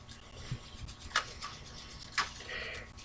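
A toothbrush scrubs a tarnished silver ring, making soft bristly rubbing strokes with a few sharper scrapes, close by and fairly quiet.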